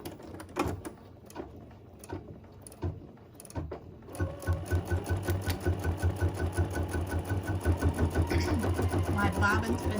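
An embroidery machine stitching an in-the-hoop design, first with sparse mechanical clicks and taps, then settling into a fast, steady rhythmic needle chatter and motor hum, close and moderately loud.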